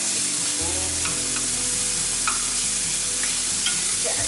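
Pork being stirred with garlic in a pot, a continuous sizzle with soft scraping and clinking of a spoon, close and steady with no talking.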